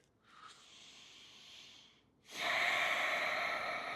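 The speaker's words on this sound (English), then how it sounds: "you'll keep on breathing in and out through your nose" Breathing in and out through the nose during a body-focused exercise practice: a soft, faint inhale followed by a louder, rushing exhale, heard close up with no talking.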